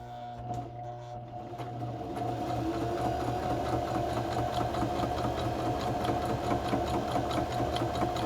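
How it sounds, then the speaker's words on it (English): A sewing machine runs a straight stitch down the side of a paper folder, its fast steady whirring hum starting after a moment and holding evenly, close and alone. "And I'm going to stitch down that side."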